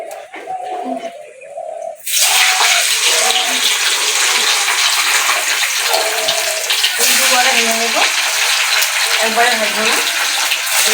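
Cubes of paneer hit hot ghee and oil with a sudden loud burst of hissing that stays as a strong, steady sizzle, while a voice talks faintly underneath throughout.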